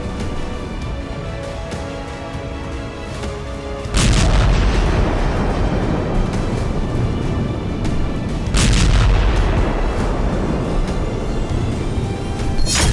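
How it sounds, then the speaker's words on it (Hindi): Explosions at an ammunition depot in Ukraine's Khmelnytskyi region during the Russia-Ukraine war: two massive booms a few seconds apart, each bursting over a continuous deep roaring rumble that stays loud throughout. "एम्यूनिशन डिपो में विस्फोट के बाद बारूद से सना ऐसा मशरूम क्लाउड उठा"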